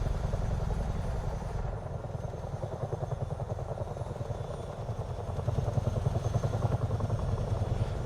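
Helicopter cabin in Microsoft Flight Simulator 2024, a steady rotor thump and turbine drone held constant and fairly loud throughout, with no one talking.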